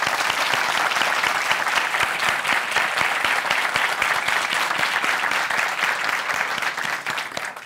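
A full studio audience at a Turkish relationship-quiz comedy show breaks into loud, dense applause as the episode opens, with sharp individual claps crackling through a continuous roar that holds steady before easing slightly at the end.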